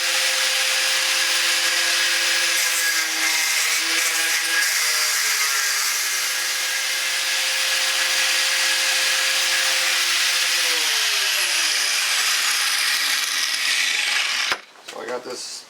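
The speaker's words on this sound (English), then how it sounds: "I'm just going to use my grinder here with a nice thin" Angle grinder with a thin cutoff blade grinding off a bolt on a 1994 Chevy S10 front clip, a loud steady high whine with shifting pitch for about fourteen seconds before cutting out abruptly.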